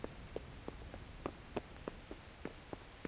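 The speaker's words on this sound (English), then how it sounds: "Listen to my footsteps now." Footsteps of a character in a video game patter in a quick, steady rhythm of light, evenly spaced thuds, faint and alone with no talking.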